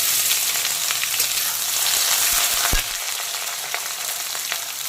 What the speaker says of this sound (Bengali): পেঁয়াজ কুচিটা কিন্তু হালকা বাদামি কালার করে ভেজে নিচ্ছি